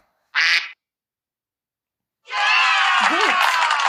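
A duck quacks once, a short loud burst, then after a pause comes a long bright stretch of children cheering and clapping, like an animal-sounds lesson for kids.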